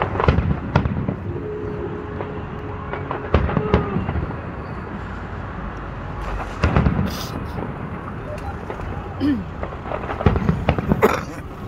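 Fireworks burst outdoors at night in a string of sharp cracks and booms, some close and loud, others more distant, with faint crackling between them and occasional voices nearby.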